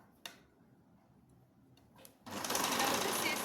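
A domestic sewing machine stitching the double-folded hem of a nightie starts up after a quiet stretch with a couple of clicks, then runs as a loud, fast, continuous mechanical whir, with a voice speaking at times.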